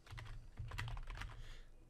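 Keys clatter rapidly on a computer keyboard while a username is entered at a Windows Server Core sign-in, close and fairly quiet, with no voices.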